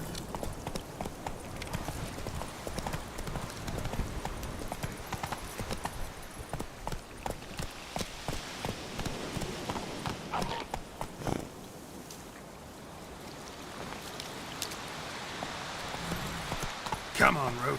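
Hooves of the horse Roach in a video game, a continuous quiet clip-clop of galloping mixed with game ambience over nearly eighteen seconds, with no clear talking.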